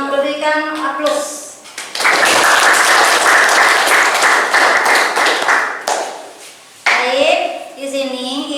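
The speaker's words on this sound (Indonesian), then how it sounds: "Berikan aplaus." A classroom of students claps together in loud, dense applause for about four seconds, with a teacher's voice before and after.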